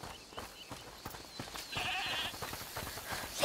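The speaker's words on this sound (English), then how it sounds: "Is that the goat he talked about?" Goat bleating inside a house in the video game A Plague Tale: Requiem, a short, faint bleat partway through, set among quiet footsteps and ambient game sounds.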